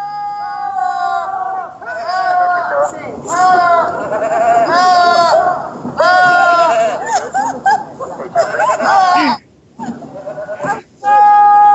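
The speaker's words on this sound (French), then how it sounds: "C'était une chèvre" Several loud goats bleat repeatedly up close, wavering cries overlapping and following one another with brief gaps between them.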